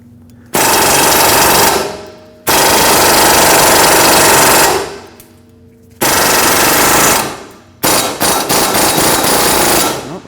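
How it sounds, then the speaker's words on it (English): A power tool, likely an impact wrench, works a rusted, stuck lower control arm nut on a 2005-2021 Nissan Frontier 2WD, hammering loudly in long rapid bursts with short pauses between them, close up. "we'll put our power tool on this and try to spin it free"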